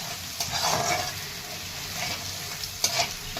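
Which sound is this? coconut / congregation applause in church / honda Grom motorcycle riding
coconut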